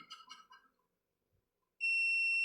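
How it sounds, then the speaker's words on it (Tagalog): Continuity tester buzzer sounding while checking microwave oven parts for a short to the body: a steady, piercing electronic tone that starts abruptly and holds, following a few faint clicks and rustles. "Pag tinis natin to, kailangan may buzzer."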